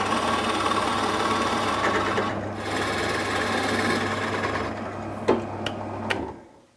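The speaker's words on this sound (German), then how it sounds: "kann jetzt hier fröhlich vor mich her bohren" A drill press boring holes for a 3D luxury edition Ludo board game: a steady motor whine runs for about six seconds, with a few sharp clicks near the end before it winds down. No one speaks.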